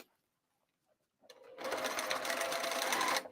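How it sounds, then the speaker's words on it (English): A sewing machine stitches a bag lining from the outside. After a near-silent pause and a faint click, the motor starts and runs in one steady, close burst of rapid stitching for about two seconds. "I'll go back and I'll sew from the outside just to show you"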